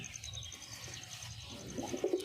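Pigeons coo softly nearby against a quiet background with a faint high tone, and a few low, throaty coos grow stronger toward the end.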